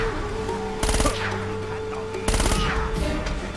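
Gunfire in Uncharted: Drake's Fortune Remastered, two loud rapid bursts of automatic shots about a second and a half apart, close and sharp over a low background hum.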